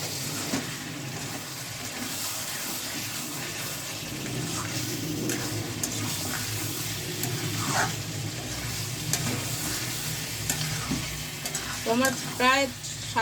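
Mutton curry with chili powder and garam masala is stirred and sautéed in a pan, a continuous sizzle with scraping and clatter, and a brief voice near the end.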